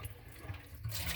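Water gushes and splashes from an opened water heater valve, a steady rushing flow that swells louder near the end, heard close and alone.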